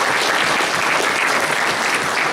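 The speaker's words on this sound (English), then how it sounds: "let's give them a round of applause, man" A burst of loud, dense applause from a crowd, sustained evenly throughout without a break.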